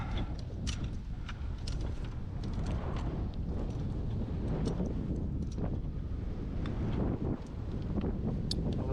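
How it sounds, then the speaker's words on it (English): Wind buffets a microphone at the top of a utility pole during fibre optic drop work, a steady, loud gusty rush with scattered rattles and knocks. "Of course the wind picks up right as I get up here."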